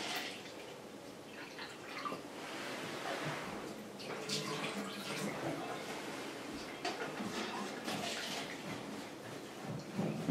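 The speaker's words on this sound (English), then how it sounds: "we're just going to pour about 2 cups of this Splash RV and Marine antifreeze into" Splash RV and Marine antifreeze, about two cups, poured into a bathtub drain, giving a steady gurgling, splashing liquid wash that runs the whole time at moderate loudness, with no speech over it.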